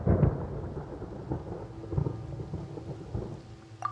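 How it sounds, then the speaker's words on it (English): Thunder in the video game Genshin Impact: a low rolling rumble with rain-like hiss, moderately loud and continuous, no voices over it. "Paimon hears thunder!"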